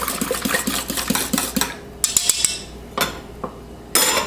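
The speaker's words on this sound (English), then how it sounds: "You'll add your eggs. Give it a quick stir." A utensil clinks rapidly against a bowl as eggs are stirred into a foamy yeast mixture for cinnamon roll dough, a quick run of close taps followed by a few sharper, scattered knocks.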